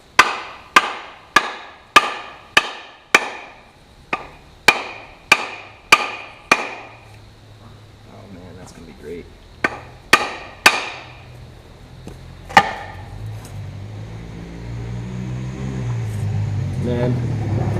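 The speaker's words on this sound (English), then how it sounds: "you hold it upside down, and you whack it with a wooden mallet" A wooden mallet whacks an axe head down onto its handle during a Sager Chemical axe restoration: about a dozen sharp, close knocks in a steady rhythm, then a few scattered blows as a low background rumble swells.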